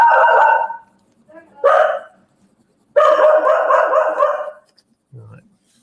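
A female dog barks near a workshop build, a few loud close barks and a longer run of sharp overlapping yelps, with speech mixed in between.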